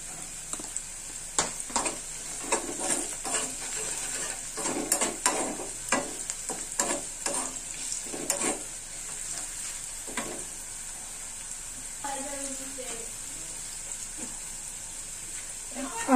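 Onions fry and sizzle in a pan while a utensil stirs and scrapes them at an irregular rhythm, with turmeric being added, under a constant high hiss from the hot oil.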